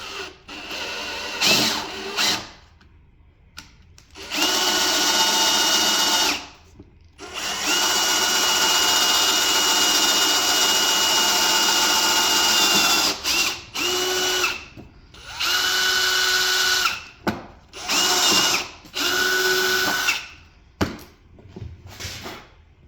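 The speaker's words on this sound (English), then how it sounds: "we've drilled all the way through the tube and through the stud" A power drill bores through a metal mic boom tube and a stud in loud, sustained whirring bursts, separated by short pauses and brief stop-start pulses.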